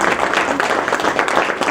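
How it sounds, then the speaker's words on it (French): A seated audience at a launch event for an African revenue statistics report applauds the participants, a steady wash of many hands clapping close and fairly loud throughout. "On va applaudir les participants."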